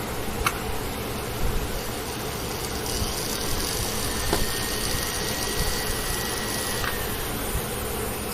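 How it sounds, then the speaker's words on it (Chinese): A Toyota MH7600 sewing machine motor running after a power switch replacement, a steady continuous whirring hum with a faint high whine, constant in level throughout. "可以了，马达有在动了。"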